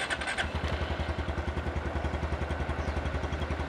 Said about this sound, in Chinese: 我们可以看到这个怠速的声音67、68左右